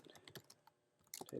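Light keystrokes tap on a computer keyboard in a few quick, irregular clusters, soft and close, with a short pause in the middle and a louder burst of clicks at the end.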